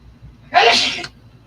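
A single loud, close sneeze bursts out at once in an indoor craft workspace during a miniature-building session, about half a second long, with a sharp onset and a trailing hiss before quiet returns.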